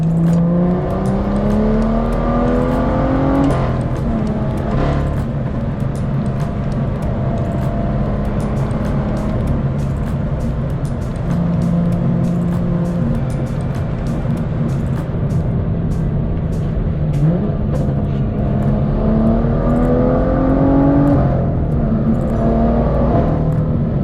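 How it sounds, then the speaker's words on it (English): A BMW F87 M2 with a manual gearbox and N55 engine revs repeatedly under hard acceleration, pitch climbing through gears with a loud, whistling turbo whine over the constant road roar. "The turbo is just so freaking loud in this car."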